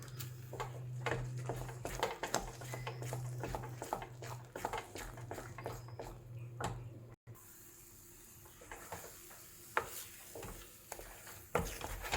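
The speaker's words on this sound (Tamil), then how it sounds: "அப்பப்போ கொஞ்சம் கீ எல்லாம் விட்டு கொடுத்து கிளறி கொடுக்கலாம்" A spoon stirs a coconut sweet mixture, thengai thirati, with ghee in a pan, giving soft, irregular scraping and tapping strokes, faint and close, with no talking.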